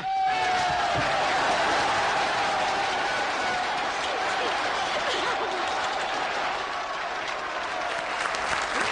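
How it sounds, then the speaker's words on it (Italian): Loud, sustained applause from a large studio audience fills the whole stretch, dense and even, with scattered voices and a brief whistle early on. "E l'applauso si unisce anche il mio pubblico."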